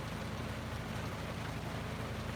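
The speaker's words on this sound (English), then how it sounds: "it's raining pretty good outside" Rain falls outside a boat cabin as a steady, dense hiss that is faint and even throughout, with no voices.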